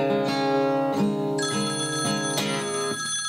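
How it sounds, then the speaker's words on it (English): A telephone rings with a bright electronic melodic ringtone, its tones repeating steadily and clearly throughout, loud and without talk. "The phone!"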